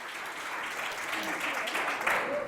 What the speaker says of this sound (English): The applause lasted more than 2 minutes.